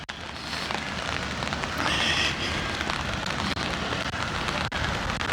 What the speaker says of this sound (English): walking in the rain, and man, it picked up the rain hard